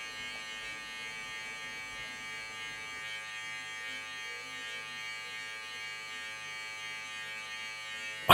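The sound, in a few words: electric hair clipper buzzing during a taper fade haircut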